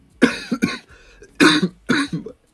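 A sick man coughs about four times in quick, harsh bursts, close and loud, with short silent gaps between them and a faint throat-clearing rasp in the middle.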